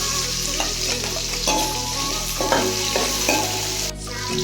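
Onions and whole spices including shahjeera frying in oil for prawn biryani, a steady loud sizzle with repeated stirring scrapes and clanks close up.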